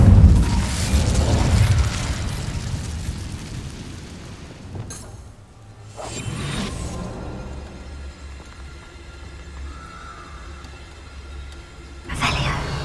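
Incendio fire spell cast in Hogwarts Legacy: a fiery whoosh and burst rise out of a busy game soundscape, followed by a quieter stretch and another sharp flare near the end, with a booming, crackling quality.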